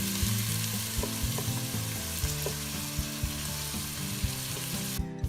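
Garlic cloves and crushed red pepper fry in oil in a pot over low heat, giving a steady, fairly quiet sizzle with faint regular ticking and clicks underneath, and no talking.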